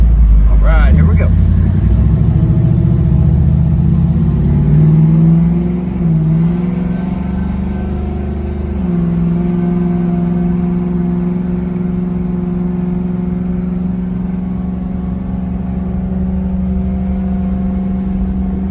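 A 1967 Chevrolet Camaro RS accelerates hard through the gears, its engine note climbing and dropping at each upshift, loud and close, then settling into a steady drone.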